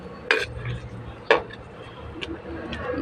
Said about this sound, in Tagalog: Halo-haloin lang natin yan.